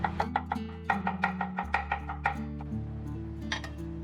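A knife slices and shreds a piece of carrot in a home kitchen, giving a quick run of crisp, rhythmic taps with a steady tonal backing underneath.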